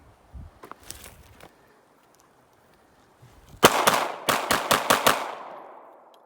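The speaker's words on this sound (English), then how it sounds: "dump full 8 rounds from the Luger into the target" A Luger P08 pistol fires eight rounds at a target in rapid succession, loud sharp outdoor reports with echo trailing between shots, preceded by quieter handling noises.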